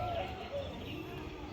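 Pet pigeons in a backyard loft coo briefly and softly, a couple of low murmuring calls close by with a faint voice in the background.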